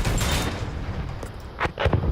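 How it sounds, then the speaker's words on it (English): Battlefield 1 combat erupts in a rapid jumble of gunfire and booming explosions, loud and close, with a sharp heavy blast near the end. "You see that explosion?"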